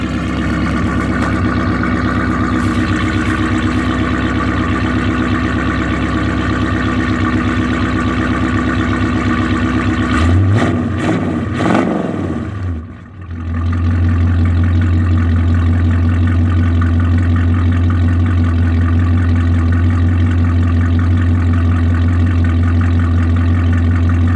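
A 1987 GMC with a Turbo 305 engine, small cam, turbo mufflers and shorty headers idles loud and steady up close, with one brief rev and drop midway before settling back into its even rumble.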